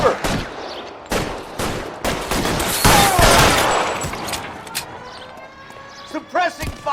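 Gunfire in an L.A. Noire shootout at an electroplating works, with rapid bursts of sharp shots in a fusillade, loud and close, mixed with ricochets, and a voice speaking over the shooting.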